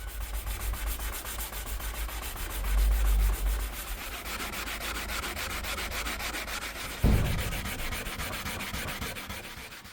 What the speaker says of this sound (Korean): 그 다음에 점점 부드러운 사포를 사용해서